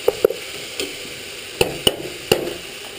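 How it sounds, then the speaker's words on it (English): Beef browning in tomato sauce in a pan for beef pochero, with sharp spoon taps and knocks against the pan at irregular intervals over a low sizzle. "let's just brown that for just a little bit"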